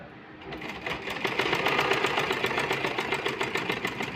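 Sewing machine stitching a blouse with two threads, a steady rapid mechanical whir starting after a brief quiet moment and running continuously, close and fairly loud.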